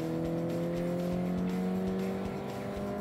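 A 2021 Mercedes C-Class with a small 1.5-litre engine pulls away steadily in first gear, shifted by steering-wheel paddles, its engine tone rising gradually and continuously, heard from inside the car with no talking.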